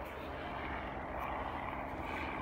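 RVJET reconnaissance RC plane with its electric motor held at takeoff throttle, giving a steady, continuous broadband whir that stays at an even level with no pauses.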